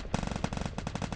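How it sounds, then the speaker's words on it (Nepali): G18 automatic pistol fire in a competitive shooter video game match: a fast, steady burst of loud, sharp shots that runs without a break. "यहाँ पछाडि एनिमी G18 हान्दैछ"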